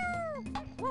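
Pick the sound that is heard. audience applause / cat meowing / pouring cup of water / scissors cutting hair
cat meowing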